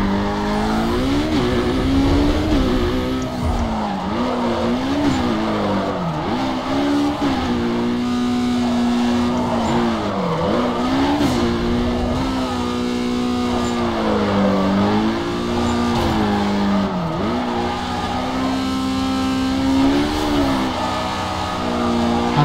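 A Dodge Challenger races in Need for Speed Carbon, its engine a loud, steady roar that rises and dips with gear changes and throttle, without any talking throughout.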